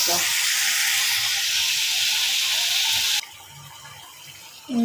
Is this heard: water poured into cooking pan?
yes